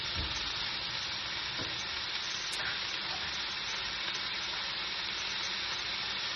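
Carrots and beans from a mixed-vegetable blend frying in a pan for fried rice, giving a steady dense sizzle that holds level throughout, close and continuous with no talk.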